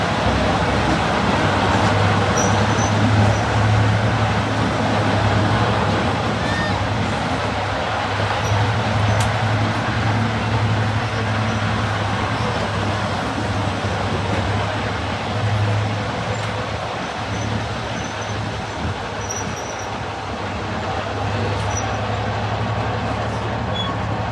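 A heritage diesel train rolls into Highley station on the Severn Valley Railway during a spring diesel festival, its steady low engine drone and track rumble continuous and close for the whole stretch.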